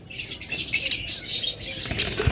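Fischer's lovebirds, yellow red-eyed, flutter in a cage, giving a soft, continuous rustle of flapping wings with faint chirps.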